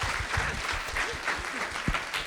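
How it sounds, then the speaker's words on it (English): An audience applauds speakers after a session at The New School, a steady wash of many hands clapping at moderate distance with faint low rumble and a few voices mixed in beneath. "it is time, first of all, for us to have a round of applause for these amazing speakers"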